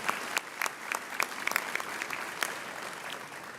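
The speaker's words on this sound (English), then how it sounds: "And I think another round of applause for Dr." Applause from a graduation ceremony audience at the University of the Free State, a sparse, moderately distant patter of individual claps, fairly quiet, with no talking.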